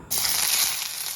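Onions hit hot oil in a pan of korma masala with a sudden loud sizzle, a steady hissing crackle that starts abruptly and keeps going without a pause.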